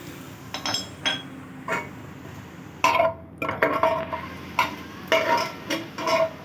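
Whole spices, a cinnamon stick, a teaspoon of cumin seeds and five or six black peppercorns, drop into hot oil in a pan, giving a series of short crackling bursts and clinks spaced out over a few seconds.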